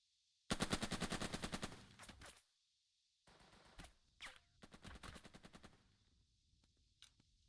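Bursts of gunfire from the tactical leadership game Burden of Command: a fast rattling volley of shots, a pause, then further sharper rapid bursts and scattered single cracks, loud and close with no talk.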